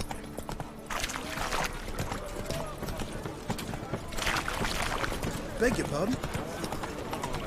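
The horse Roach clip-clops in The Witcher 3, a run of hoofbeats on the ground mixed with game sounds, while voices talk over the top.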